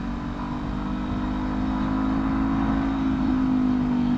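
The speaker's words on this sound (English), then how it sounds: "I don't think the noise of the engine is too terrible" A Honda CB500F motorbike engine fitted with a Black Widow exhaust hums in a steady, loud drone, with a slight rise in pitch toward the end.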